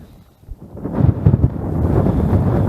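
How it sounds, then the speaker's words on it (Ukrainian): Light rain begins to fall on a pond during winter spinning fishing from the shore, a steady broadband patter and rush that swells after the first second and stays fairly loud, with no talking. "знову починає падати дощик"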